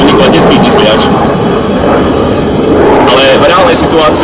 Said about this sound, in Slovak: tento vzdušný boj je simulovaný v malom priestore na pobavenie návštevníkov leteckých vysliač